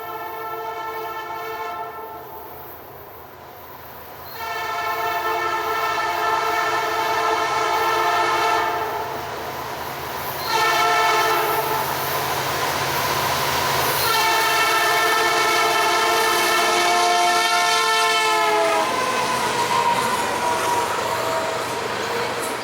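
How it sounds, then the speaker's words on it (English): CN SD70M-2 diesel locomotive leading a long BNSF grain train, sounding its multi-chime horn in several long blasts over a steady, loud rumble of engine and rolling cars, with no speech. "CN8828, a SD70M-2, leading BNSF GSUP FTX, a long-distance grain train from Superior, Wisconsin, bound for Friona,"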